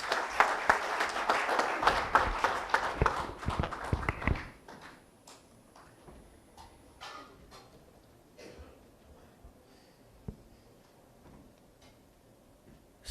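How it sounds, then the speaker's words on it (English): Dense applause from a seated audience at a formal session for a guest of honour lasts about four seconds, then thins to scattered individual claps that trail off into near quiet. "Please give him a big round of applause."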